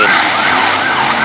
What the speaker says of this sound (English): He's got the sirens and the lights going and everything.